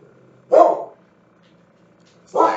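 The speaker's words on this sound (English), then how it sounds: "definitely was my dogs like kind of barking there" Dogs bark indoors in two loud, separate bursts, one near the start and another at the end, with quiet between them.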